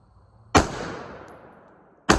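An unsuppressed 16-inch 5.56 rifle fitted with a Hanson Brothers muzzle brake fires one loud, sharp report that rings off in a long fading tail, and a second shot cracks right at the end.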